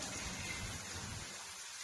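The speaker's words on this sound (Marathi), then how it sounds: "आणि पाऊस चालू झाला गाराचा" A hailstorm pours down steadily with a dense broadband roar and low rumbling, easing slightly toward the end. No voices.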